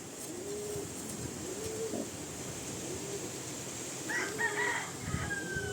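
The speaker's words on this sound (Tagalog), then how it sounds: "Yan naman yung cock." A rooster crows, with soft bird calls scattered through a steady background hum and a brief louder call near the end.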